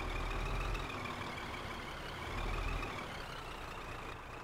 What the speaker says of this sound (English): This is where it gets tricky reversing these trailers.